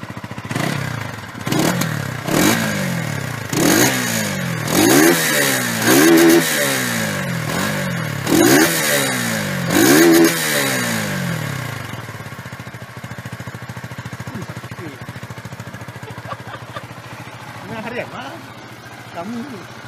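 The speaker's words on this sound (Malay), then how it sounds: "Dan kita dengar engine start" A Benelli RFS 150i motorcycle engine, 2017 model, is blipped in a rapid series of sharp revs that rise and fall about every second, then settles into a quieter idle for the rest of the clip.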